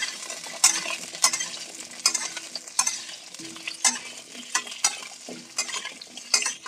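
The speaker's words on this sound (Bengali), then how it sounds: "তেলটা গরম হয়ে গেছে আমি আলুগুলোকে ভেজে নেব আলুগুলোকে আমি একটু লাল করে ভাজবো" Potatoes frying in hot oil, a low sizzle under a steady rhythm of sharp scraping stirs roughly every half second, close up and with no voices.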